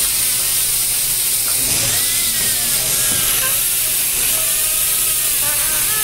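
A dental handpiece spins a hard bristle brush against a porcelain crown chairside, giving a continuous high-pitched whine with wavering pitch sweeps and scratchy friction noise, close and steady throughout.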